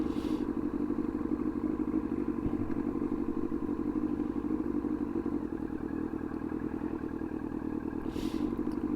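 A Yamaha R1 project motorcycle cruises under steady engine drone, a continuous low hum with wind rush and occasional faint knocks, no talking.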